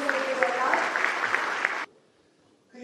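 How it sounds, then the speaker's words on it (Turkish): Audience applause at a business awards ceremony in Istanbul, a dense burst of clapping under a speaker's voice that cuts off abruptly after about two seconds, leaving near silence. "Alkışlarımızı veriyorlar."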